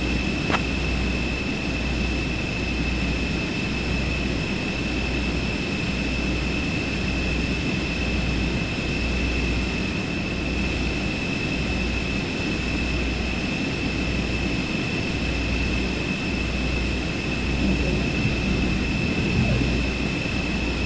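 Airplane on final approach to land on runway 04 in Microsoft Flight Simulator 2024, heard as a steady loud cabin engine drone with a constant tonal hum and no talk.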